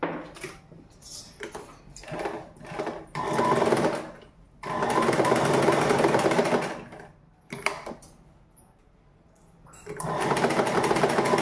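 Sewing machine stitching the waistband of uniform shorts, several bursts of fast, steady whirring and needle chatter, close and loud, with short stops and fabric handling between runs.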